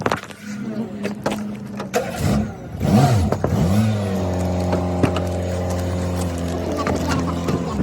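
A car drives toward a bus terminal in Tehran, its engine revving and shifting before settling into a steady, close mid-pitched hum.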